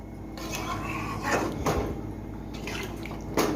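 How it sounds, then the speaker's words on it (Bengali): A small splash of water poured into a pan of cooking chicken, a brief liquid sizzle and clatter of the pan against steady kitchen background noise. "সামান্য পরিমাণে জল দিয়ে দিলাম"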